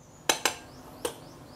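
A tablespoon knocks against a bowl while scooping heaped spoonfuls of batter flour for fried seafood: two quick clinks close together, then a third a moment later, crisp and near in a quiet room.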